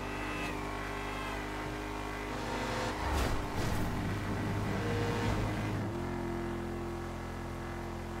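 A supercar's engine drones steadily in GTA 5 near a busy airport, surging into a louder rev around the middle before settling back to a constant hum.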